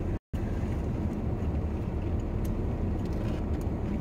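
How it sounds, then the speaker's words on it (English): Truck engine idling after being started, a steady low rumble close by that fills the whole stretch, with no talk over it. "Thanks for starting the truck."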